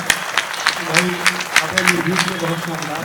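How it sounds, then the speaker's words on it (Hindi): Audience applause at a live Hindi comedy poetry show, a steady patter of clapping running underneath a voice speaking over it. "तो तालियां बजाते रहना"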